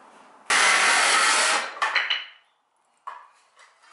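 A cordless power drill drives screws into a wooden 2x4 while building a wood and PVC skate box. One long, loud whirring burst is followed by a few shorter stuttering pulses and a final brief run.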